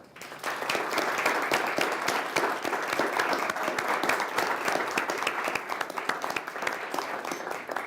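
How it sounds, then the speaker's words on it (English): Sustained applause from an audience at an employer panel event, many hands clapping steadily and fairly close for the full stretch without a break. "I think our panel deserves a warm round of applause"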